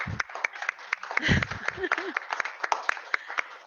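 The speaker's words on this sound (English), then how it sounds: "And I'm going to clap" A single person claps by hand at a virtual school board meeting, giving a steady run of sharp, evenly spaced claps, fairly close and fairly quiet, with a brief murmur of voice partway through.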